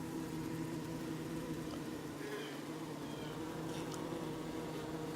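Honey bees fanning at a hive entrance, with a steady low droning buzz of many wings held at a constant level throughout, close and continuous with no talk.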